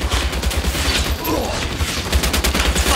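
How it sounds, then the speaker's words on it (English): Rapid bursts of gunfire from the tactical shooter Ghost Recon Wildlands crack loudly and close by, overlapping in a dense, continuous volley across the few seconds. "I'm opening fire on these shitheads."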